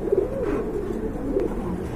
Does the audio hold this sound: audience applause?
no